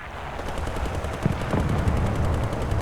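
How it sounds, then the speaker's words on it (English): Ship machine guns aboard the Scharnhorst in War Thunder, firing in a continuous rapid rattle that is steady and fairly loud for the whole stretch, with heavier thuds from other weapons mixed in. "Come on, you stupid machine guns!"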